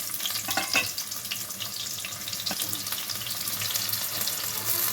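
Continuous close sizzling and crackling of onions, dried red chillies and tempering spices frying in hot oil, with a few clatters near the start.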